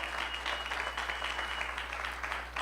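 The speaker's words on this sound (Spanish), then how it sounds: "Cuando le damos una ofrenda de palmas al Señor." A church congregation claps together as an offering of praise to the Lord, producing steady, dense applause that fills the room at an even level without pause.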